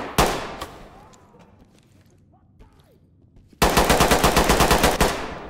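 In the tactical shooter Ready or Not, two sharp close shots ring out, a quieter stretch follows, then a loud rapid burst of automatic gunfire rattles off a dozen or so evenly spaced rounds.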